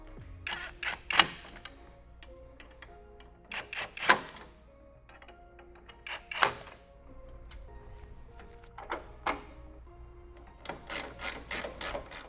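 Fasteners on a windshield light mount of a Jeep Wrangler JK are tightened with a ratchet, producing bursts of rapid clicking separated by quiet pauses, close and fairly faint over a low background hum.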